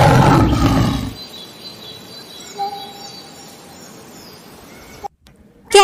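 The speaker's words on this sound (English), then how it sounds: "Lion," A lion roaring once in a single loud, deep opening burst lasting about a second, followed by quiet insect-like chirps and a faint brief tone.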